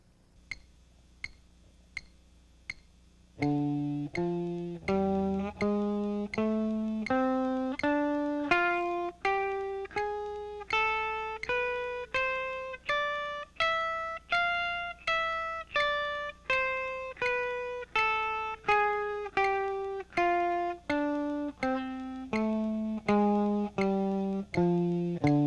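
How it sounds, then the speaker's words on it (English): A few sharp metronome clicks at 80 beats per minute count in, then an electric guitar runs the D blues scale up and back down in steady single notes locked to the click, close and clear with no talking. "And with the metronome set at 80,"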